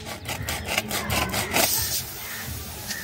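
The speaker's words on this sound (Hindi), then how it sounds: "इसको हम बीच से जो है इस तरीके से यहाँ से काटेंगे, इसको काटते हैं गाइस।" A hand saw rasps back and forth through a metal snow spray can, several quick rubbing strokes in a steady rhythm, close and fairly loud, with no talking.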